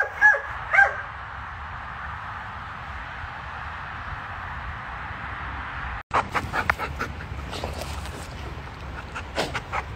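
Malinois and a young Labrador retriever in training: steady close panting runs throughout, with a couple of sharp yips or barks at the start and scattered whimpers and yips later.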